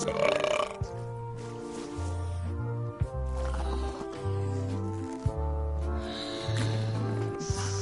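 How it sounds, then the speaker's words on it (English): Several characters take turns burping loudly in a burping contest in a video game, a run of long, low, drawn-out belches one after another. "Hey, how about a burping contest?"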